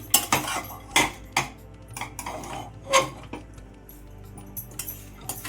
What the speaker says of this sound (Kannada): ಒಗ್ಗರಣೆ ಮಿಕ್ಸ್ ಮಾಡ್ತಾ ಇದ್ದೀನಿ